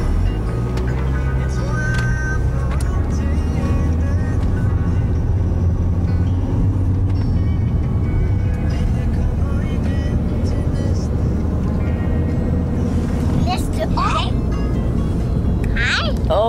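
Steady interior rumble of a car driving along a road, a constant low engine and road drone throughout, with children's and adults' voices talking faintly over it toward the end.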